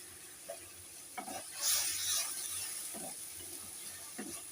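Green chilies hit hot oil in a pan of pomfret fish curry, giving a steady soft sizzle with occasional stirring scrapes and a brief louder hiss partway through, fairly quiet and with no talking.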